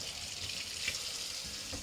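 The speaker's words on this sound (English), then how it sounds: "take your little brush, run it under a little warm water" Warm tap water runs steadily from a faucet over a small cleaning brush, a continuous close hiss with faint splashing and no talk.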